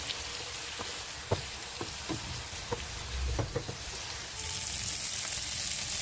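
Chicken frying in hot oil for chicken biryani gives a steady, close sizzle with scattered pops and crackles. The sizzle swells slightly near the end, and no one talks.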